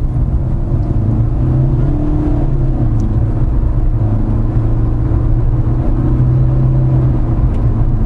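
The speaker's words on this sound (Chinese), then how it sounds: "Eco Mode 踩深油门" A Proton Iriz Active with a Punch CVT accelerates hard in Eco Mode on an empty street, its engine droning steadily inside the cabin with a low, even rumble and slowly rising pitch, no voices.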